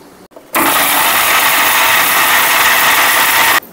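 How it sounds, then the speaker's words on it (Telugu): A kitchen mixer grinder grinds whole spices such as coriander seeds, cinnamon and shahjeera for a Telangana-style fish curry, running as a loud, steady, rattling whir for about three seconds after a brief switch-on, then cutting off abruptly. "అన్నీ మిక్సీ పట్టాలి."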